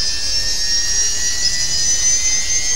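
A Losi Promoto-MX RC motorcycle's electric motor runs steadily nearby, a constant high-pitched whine with a hissing edge and no pauses or talk.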